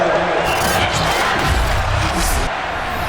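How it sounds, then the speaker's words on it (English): A stadium crowd in Madden NFL 22 shouts and roars during a replay review in a Panthers versus Cowboys matchup, a dense steady wash of cheering voices mixed with broadcast commentary. "Plenty of shouts from this crowd as they watch the replay"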